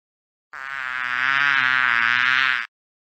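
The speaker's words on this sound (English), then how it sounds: "The bee likes to hum." A bee humming in a children's phonics lesson: one steady, loud buzzing drone that lasts about two seconds, heard alone and stopping abruptly, with no talk.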